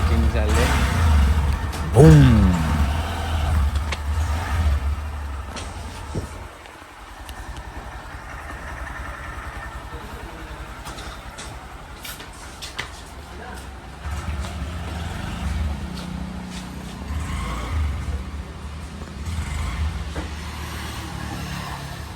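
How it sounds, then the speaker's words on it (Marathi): A car engine rumbles low as the vehicle drives along the road, with people talking inside over the noise. "गाडी बाहेर आली रेडी होऊन आणि आता टेस्ट ड्राईव्हसाठी घेऊन चाललेत"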